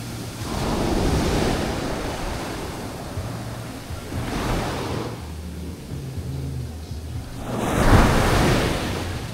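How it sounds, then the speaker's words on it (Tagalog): Surf at Dahican beach in Mati, Davao Oriental rolls in as broad, loud waves, three big swells building and breaking over steady wind noise. "Yan ang dagat ng Dahican."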